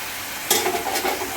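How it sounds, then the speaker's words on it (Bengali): A steady sizzle of ginger-garlic paste frying in hot oil, with a few scraping stirring strokes close up. "আদা রসুন বাটা ভালো করে মিশিয়ে কিছুক্ষণ আমি কষিয়ে নেব"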